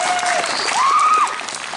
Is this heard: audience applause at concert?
yes